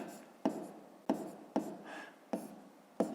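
A pen or chalk writes a fraction's denominator, making short scratchy strokes with sharp taps at the start of each, about five in quick succession, close and quiet.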